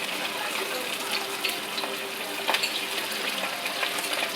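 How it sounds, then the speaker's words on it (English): Pork pieces deep-frying a second time in oil heated to 375 degrees, a steady bubbling sizzle with occasional pops and crackles, heard close up. "Now I'm gonna put it 375. And just go fry it a second time."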